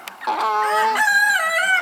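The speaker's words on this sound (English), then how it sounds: "The Polish chickens." Polish chicken crowing close by, a wavering, drawn-out call that rises and bends in pitch over about two seconds, loud and alone.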